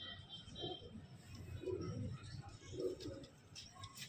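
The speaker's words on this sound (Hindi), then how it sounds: "गुटकती हुई कबूतरी" A female pigeon cooing softly nearby, a few low throaty coos in bursts, faint against background noise.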